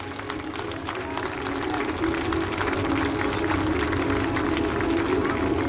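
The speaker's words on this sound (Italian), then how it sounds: "facciamo un grande applauso al comandante delle Frecce Tricolori, tenente colonnello Stefano Fitt." Steady crowd applause at the Frecce Tricolori air show in Jesolo, a broad continuous wash of many hands clapping from a large outdoor audience, slightly louder in the second half.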